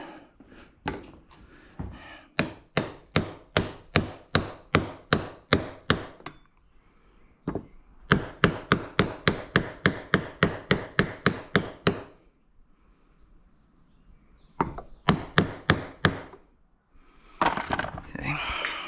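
Metal taps from a socket driving a part into place on a Can-Am, coming in three quick rhythmic bursts of a dozen or so sharp, ringing strikes each, close and loud with short pauses between runs.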